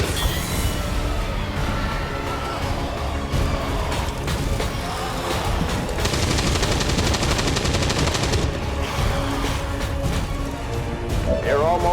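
An automated turret fires in XCOM 2, a sustained rapid stream of mechanical shots that runs loud and steady across the whole stretch, with a voice talking over the gunfire.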